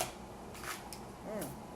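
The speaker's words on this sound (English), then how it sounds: "I'm only going to shuffle these once." A deck of Angel and Ancestor Oracle cards by Kyle Gray shuffled once by hand, giving a brief, close papery riffle and rustle of cards, with faint room noise and no talk.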